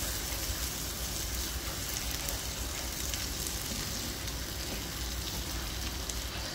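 Plantain malai kofta balls go into a simmering spiced gravy that bubbles and sizzles steadily in the pan, a dense, even hiss with no talking.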